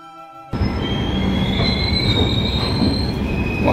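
Puri–Howrah Jan Shatabdi Express 12278 pulling out of the Puri platform, loud steady rumble of the train with sustained high wheel squeal starting abruptly and continuing close by, no talk.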